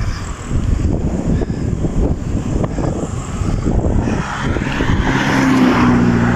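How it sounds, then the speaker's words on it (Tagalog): Steady, loud wind roar buffets the microphone while riding along Santa Rosa Road toward Dingalan, Aurora, a continuous low rumble with a faint vehicle drone and no talking. "Ayan, mahangin."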